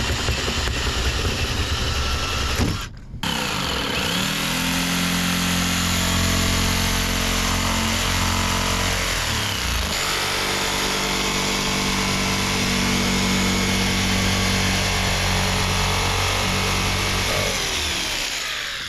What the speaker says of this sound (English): Let's get the jigsaw and a little paddle bit so I can get a little hole started